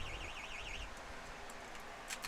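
Electronic timing clock at a women's recurve archery gold final gives a warbling beep for under a second, then cuts off, leaving a steady hum of the venue.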